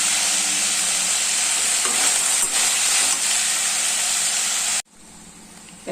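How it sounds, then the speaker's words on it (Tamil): Brinjal and tomato sautéing in a pan for chutney, a loud steady sizzle and hiss that runs unbroken for nearly five seconds before cutting off sharply. "கத்திரிக்காய் தக்காளி எல்லாம் ஓரளவு வதங்கிடுச்சு"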